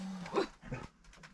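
A dog gives a short, close bark or two, with faint household background and no talk.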